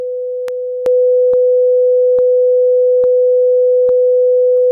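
A steady pure tone from out-of-phase sine waves hums continuously, with a few faint clicks spaced evenly through it.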